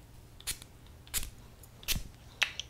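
Four short, soft spritzes from a Zara x Jo Malone perfume bottle, spaced apart in a quiet room, faint and close.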